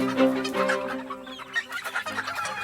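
A coop of month-old barnyard mix chickens clucks and chirps in a busy, overlapping chorus, close by and fairly loud, with no talking.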